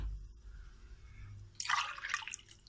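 After a quiet moment, water splashes and trickles into a pot of sugar for about a second, fairly close and moderately loud.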